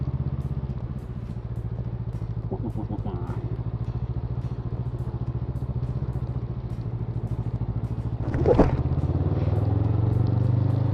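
A Honda CMX500 Rebel motorcycle rides along with a steady low engine drone, close and continuous, with a brief rattling clatter near the end as the bike cuts across rough ground.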